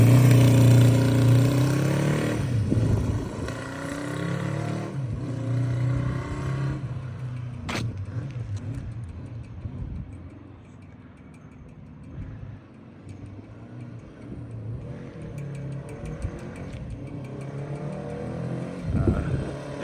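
A Honda CB350 Four motorcycle engine rumbles steadily nearby, with a couple of sharper throttle blips rising above the low, continuous drone.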